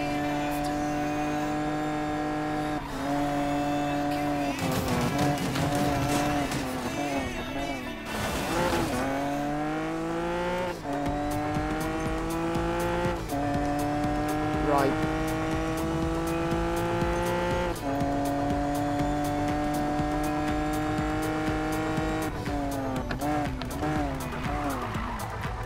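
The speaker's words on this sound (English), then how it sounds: "I'm drifting a lot more" Car drifting in Need For Speed Payback, its engine holding a loud, steady revving drone with rising and falling pitch. Tire squeal and skidding bursts come through in places, along with a quieter voice.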